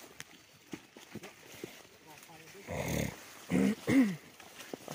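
Tied-up hunting dogs growling and snarling at close range in short bursts, with softer shuffling and outdoor noise between them.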